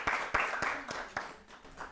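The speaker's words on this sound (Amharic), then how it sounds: "አጨብጭቡላችሁ።" Audience applause in a studio children's quiz show, with scattered claps forming a brisk, moderately loud patter over about two seconds; the clapping thins toward the end.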